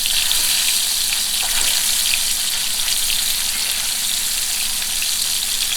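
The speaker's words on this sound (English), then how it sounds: "we're going to simmer them in this sauce, and that's how they'll finish cooking" Cheddar cheese stuffed meatballs simmer in sauce, giving a steady, close bubbling and sizzling hiss that carries evenly throughout with no talking.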